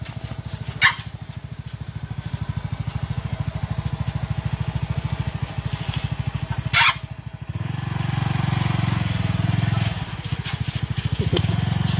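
A motorcycle engine idles with a rapid, steady putter, rising into a louder, rougher rev toward the end, with a couple of sharp clatters.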